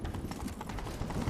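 Quick, rapid hoofbeats of a galloping horse in the video game The Witcher 3: Wild Hunt, rhythmic and fairly close, over a rumbling background.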